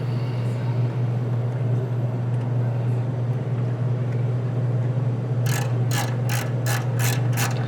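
A hand ratchet with a 10 mm socket works a fastener on a 1975 fuel-injected Volkswagen Beetle, giving several quick, sharp clicking bursts near the end over a steady low hum.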